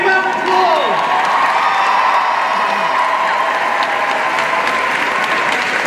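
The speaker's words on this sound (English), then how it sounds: "Big round of applause." Loud, sustained audience clapping with some cheering fills the space evenly from start to end, close and dense, at a wand combat masterclass event.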